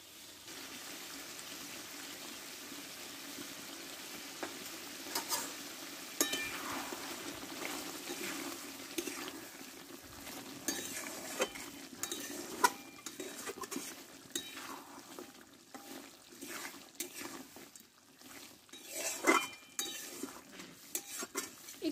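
A spoon stirs thick, spicy chicken kosha in a pan, producing steady scraping and clinking with a soft wet simmer underneath, close and moderately loud, with no talking.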